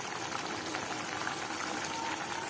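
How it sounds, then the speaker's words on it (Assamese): Eel fish curry boiling in a pot, a steady close bubbling and simmering wash with no talk, even in level throughout. "দেখিছে নহয় ধুনীয়াকৈ উতলি আছে"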